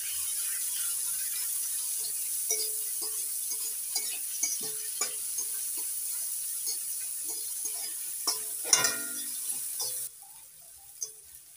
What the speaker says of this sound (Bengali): পেঁয়াজ নাড়াচাড়া করে হালকা করে ভেজে নিয়েছি।